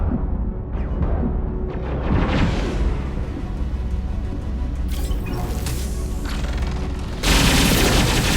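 Heavy weapon fire in Mass Effect 2: dense booms and crackling blasts roll through a battle scene, with a sharper, louder burst near the end.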